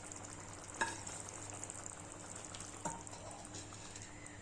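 Sautéed fenugreek leaves are tipped into a pan of simmering cowpea and peanut curry and stirred, a faint, steady sizzle and bubbling with a couple of soft utensil knocks against the pan.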